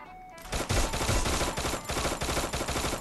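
Rapid automatic gunfire in Free Fire bursts in after a quiet moment and keeps rattling loud and close for a few seconds.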